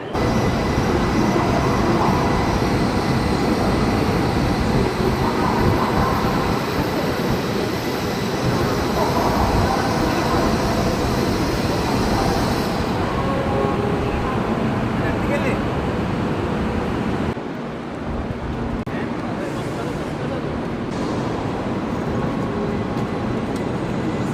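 A high-speed bullet train in Shanghai, running at about 350 km/h, roars steadily, a dense, continuous rumble and rush of air that stays loud throughout, dipping briefly near the end.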